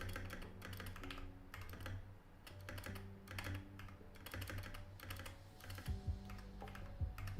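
Rapid taps on a computer keyboard, arrow keys among them, come as irregular bursts of clicks with short pauses, close and fairly quiet, with no talking.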